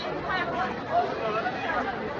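Devotees gathered at the Tulja Bhavani temple in Tuljapur make a loud, unbroken hubbub of overlapping chatter, nearby voices blending into a steady crowd murmur.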